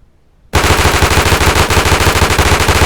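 In the video game Deadside, a rapid automatic gun bursts in after a brief silence and fires continuously until the magazine is empty, loud and close.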